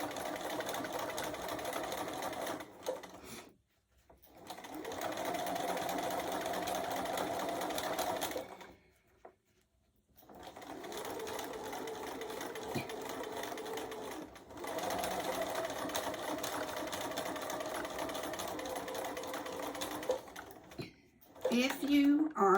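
Sewing machine stitching a casserole hot pad: three long, steady runs of rapid mechanical whirring separated by short pauses, recorded close, with a brief clatter at the end.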